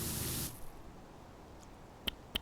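Pressure washer spraying soap in the video game Power Wash Simulator 2, a loud hissing spray burst for half a second that cuts off, followed by quiet and two sharp, brief ticks.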